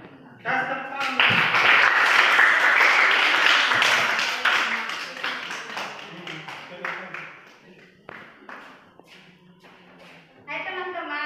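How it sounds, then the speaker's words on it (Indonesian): Students in a classroom clap together in a burst of loose, uneven applause that fades into scattered taps and thumps, with voices speaking before and after. "Kasih tepuk tangan."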